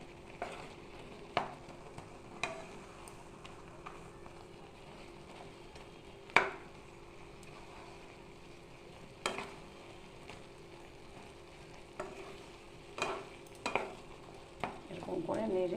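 Bread and sugar are stirred in a pan with a utensil, giving quiet scraping and soft sizzling with sharp clicks of spoon against metal at irregular intervals. No one speaks.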